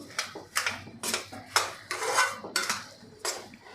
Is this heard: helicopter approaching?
no